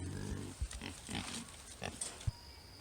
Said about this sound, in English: We had 2 pregnant mama pigs.